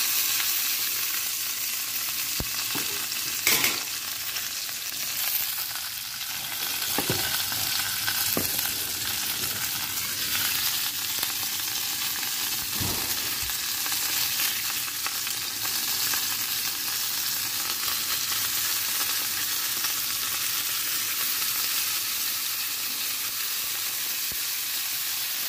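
Chicken grills in a pan, giving a steady, dense sizzle and crackle that holds evenly for the whole stretch, with an occasional sharper pop and no talking.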